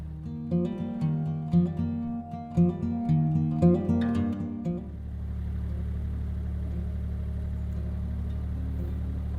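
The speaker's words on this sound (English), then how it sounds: "So now I've got the servicing done on the engine and she's running quite sweetly." Music gives way to the steady, even low thrum of a recently serviced narrowboat engine running on a canal, which carries on unbroken at moderate loudness.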